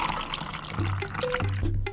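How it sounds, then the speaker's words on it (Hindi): Water poured into a kitchen pot of milk, a steady liquid splash and trickle with a few drips, fairly close and continuous, in a cartoon comedy scene. "बंसी दूध के पतीलों को रसोई में लेकर आता है और कुछ पानी उसमें मिला देता है"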